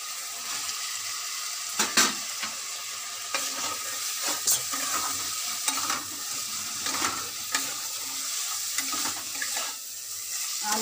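Spice paste for potato curry (aloo kosha) sizzling in oil as a spoon stirs it, a steady close crackle with sharper scraping strokes every second or two.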